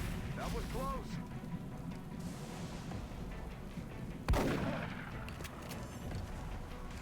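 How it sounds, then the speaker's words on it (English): One sharp, close shotgun blast from the video game XCOM Long War cuts in midway, alone against a low, steady game background with someone talking around it. "Let's see if we kill with this shotgun here for covering fire."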